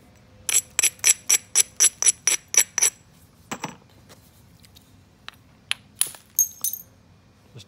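Sharp clicking strikes of direct percussion flaking on a stone biface being trimmed and thinned, a rapid run of about eight evenly spaced taps followed by scattered single and paired knocks, close and crisp with no talk.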